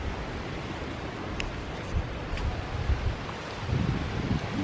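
A north wind blows near Sozopol on the Bulgarian coast, a steady loud rushing roar against the microphone with gusty swells throughout.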